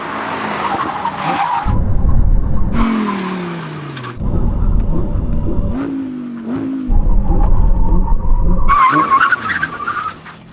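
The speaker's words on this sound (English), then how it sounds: "now we're going to have a brake test from 100 miles an hour" Several Audi R8 cars, including the new R8 GT, braking hard from 100 mph, loud engine roar cut by repeated tire skids and squeals in three bursts, close and forceful.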